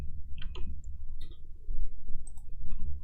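Mouse clicks while selecting and dragging across spreadsheet cells, a few short sharp clicks spaced irregularly over a low background hum.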